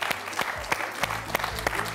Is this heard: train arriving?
no